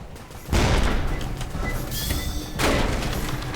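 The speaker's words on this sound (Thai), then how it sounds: "แหมยิงแบบไม่เกรงใจใครเลย" Gunfire from a rifle in Roblox, a game about Edward the man-eating train, comes as dense, loud bursts of crackling blasts in two long volleys, with a short lull in the middle.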